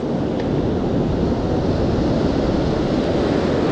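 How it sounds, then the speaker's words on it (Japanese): Rough winter surf crashing on a sandy beach, a continuous loud wash of breaking waves and roaring water with wind noise on the microphone, no voices. "いや、意外と波もごしゃごしゃだよ。"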